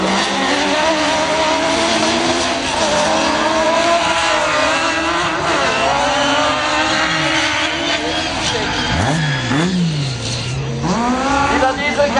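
Autocross race cars at a German championship round in Seelow roar loudly and continuously, with rising and falling engine pitch, revving and tire squeal, under a commentator's steady talk.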